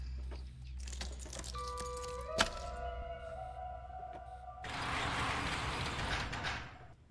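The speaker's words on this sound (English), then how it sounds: "I now have keys." Keys jangling in the video game Stray, a bright metallic rattle with a sharp thunk near the middle, sustained mechanical tones, and a burst of broadband clatter toward the end, with no talk.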